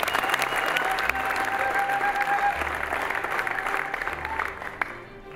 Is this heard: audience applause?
yes